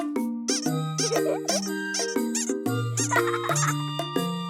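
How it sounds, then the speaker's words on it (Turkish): A squeaky toy duck in a children's cartoon gives a continuous run of high, tonal squeaks that rise and fall in pitch like a little tune, bright and close, with no talking. "bir oyuncak ördek"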